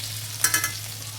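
Crushed ginger and garlic hit hot oil for biryani, giving a steady close sizzle with a brief louder crackling burst in the middle, over a low constant hum.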